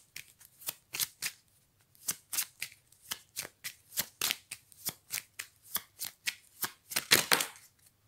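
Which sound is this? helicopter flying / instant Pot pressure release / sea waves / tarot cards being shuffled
tarot cards being shuffled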